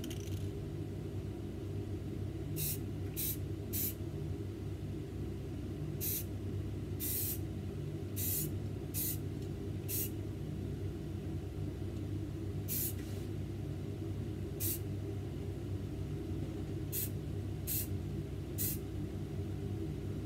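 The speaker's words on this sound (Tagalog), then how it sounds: "So, sprayan na natin." Short bursts of a spray gun hiss about a dozen times, each a second or less, while an old gun is painted during restoration, all over a steady low hum from a running exhaust fan.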